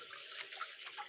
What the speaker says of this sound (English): Rinse that off just a smidge.